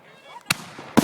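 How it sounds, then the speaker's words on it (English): New Year fireworks popping nearby, two sharp cracks about half a second apart over a low background murmur. "Last firework's gonna be in this."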